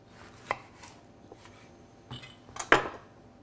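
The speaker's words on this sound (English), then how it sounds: "So next I'm just going to chop in some avocado." A knife chops a firm avocado for an eel and coriander salad, making a few soft, separate cuts that build to one louder thud near the end, close and clear with no talking.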